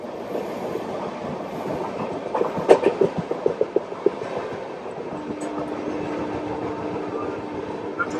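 Steady rumble of a French TGV high-speed train heard from inside a carriage, with a burst of rhythmic clicking wheels on rail joints in the middle and a continuous low drone throughout.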